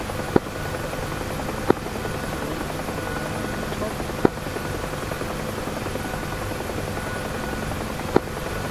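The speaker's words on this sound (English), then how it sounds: "you're about to see a friendly Huey landing at the park now" A UH-1H Huey helicopter in the DCS combat flight game keeps up a steady rotor and turbine drone, with a few sharp clicks at intervals.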